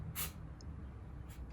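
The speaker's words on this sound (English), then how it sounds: "spray it with some penetrating oil to help" Two short hissing bursts of penetrating oil sprayed onto rusted bolts of a 1995 Giant TCM vintage mountain bike, one near the start and another near the end, over a quiet low room hum.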